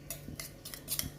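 Two metal spoons held together stir thick pancake batter in a bowl, giving a few light, irregular clinks and scrapes, close and quiet with no talking.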